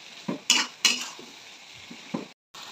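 Potatoes and spices stirred in a cooking pan with a utensil give several sharp scraping knocks against the metal over a faint sizzle, spaced irregularly with short pauses between strokes.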